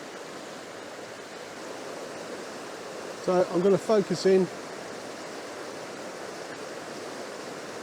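The River Dart rushes over boulders in a woodland setting, a steady broadband hiss of flowing water that stays even throughout, while someone speaks briefly near the middle.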